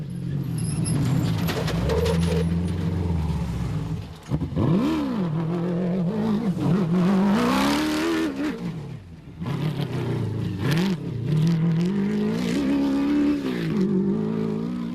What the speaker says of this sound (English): The first Class P vehicle through, who else but John Thompson and Maurice Matt